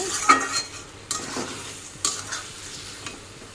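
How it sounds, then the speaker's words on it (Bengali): Raw banana and potato pieces are stirred into spices in a pan. Four distinct scraping stirs cut through a soft, steady sizzle nearby, and no one speaks. "এখন দিয়ে দিচ্ছি কারকলা আলু একসঙ্গে দিয়ে হালকা একটু নেড়ে নেব"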